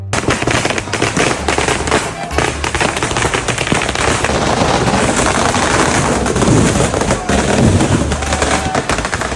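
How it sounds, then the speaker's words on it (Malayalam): Firecrackers burst at a Kerala wedding during Vishu as a loud, dense, nonstop string of rapid cracks and pops, with voices faintly mixed in beneath the barrage. "എന്തിനാ ആളുകൾ പടക്കം പൊട്ടിച്ചേ?"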